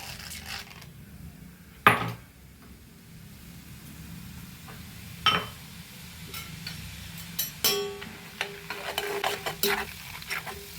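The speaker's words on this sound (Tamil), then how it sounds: "பொட்டுக்கடலை வறுத்தெடுத்துக்கணும்." Roasted gram (pottukadalai) being stirred and roasted in a pan for Deepavali snacks, with a steady soft sizzle broken by scraping and clinking of a spoon against the pan, sharpest around two and five seconds and again near eight.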